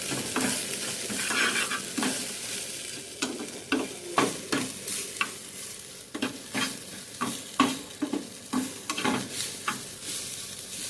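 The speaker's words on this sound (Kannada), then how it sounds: "ಫ್ರೈ ಆಗಲಿದೆ ಇದು ನೋಡಿ" Chicken gassi masala sizzles in a pan, a continuous moderate frying hiss with repeated scraping stirs that come in a rhythmic series partway through.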